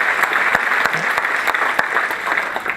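Comedy club audience clapping during a stand-up set, a steady dense patter of applause throughout with faint crowd murmur beneath.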